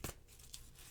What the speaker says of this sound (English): I'm going to shuffle and deal you an Angel Oracle card.